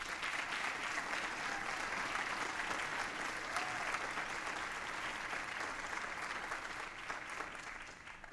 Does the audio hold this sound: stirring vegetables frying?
no